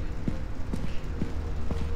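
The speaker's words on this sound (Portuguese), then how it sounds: "Nossa, um cavalo velho" An old horse's hooves clip-clop outdoors in a steady, moderately loud rhythm of about four strikes over two seconds, against a low background rumble, with no talking.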